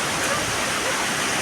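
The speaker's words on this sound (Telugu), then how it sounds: "చూస్తున్నారు కదా వాటర్ ఫాల్స్." Monsoon-season waterfall at Araku, a steady broadband rush of falling water filling the short stretch at constant loudness with no breaks.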